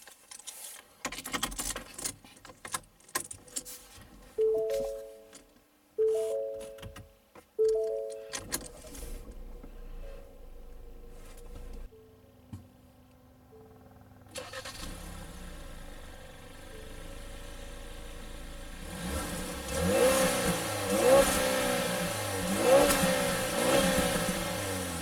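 A 2017 Ford Escape SE with the 2.0L engine starts up after a few chimes, settles into an idle, then is revved up and held high, a close steady engine drone with no talking.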